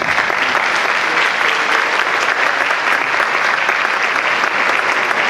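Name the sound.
audience applause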